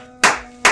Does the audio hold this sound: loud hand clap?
yes